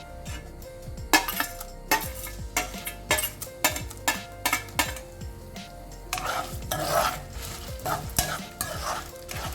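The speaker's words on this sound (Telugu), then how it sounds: "ఇప్పుడు నూనె వేడైంది కదా, దీంట్లో ఫస్ట్ మిరపకాయలు, తర్వాత మనం తీసుకున్న పప్పుల్ని యాడ్ చేద్దాం." Chillies and lentils fry in hot oil while a spoon stirs and scrapes the pan. Loud rhythmic metallic clinks and scrapes sit over a constant sizzle, and the sizzle swells louder in the last few seconds.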